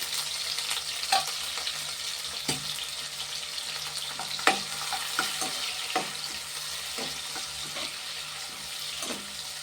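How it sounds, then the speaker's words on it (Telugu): Crabs frying in about three ladles of oil in a pan, a steady close hiss broken by scattered stirring clatters and sharp spatter pops. "వేస్తున్నాను ఎండ్రాయిలు"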